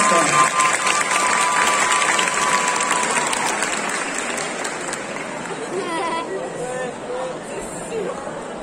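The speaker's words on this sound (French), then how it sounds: "on applaudit encore une fois bien fort Bloodhound du jeu Apex Legends" An audience at the Art To Play Nantes 2021 cosplay contest breaks into loud applause that gradually fades to scattered claps and crowd chatter, with a voice speaking near the end.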